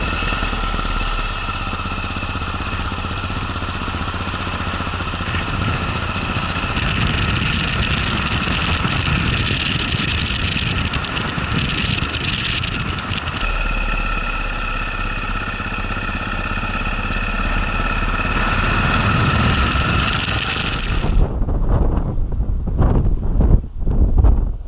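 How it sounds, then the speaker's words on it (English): Motorcycle ridden along a curvy, winding stretch of tarmac in the Faroe Islands, with a steady engine drone and heavy wind buffeting the microphone throughout, ending in a few sharp knocks as the ride stops. "Let's hop on the bike and tackle this nice curvy, windy bit of tarmac"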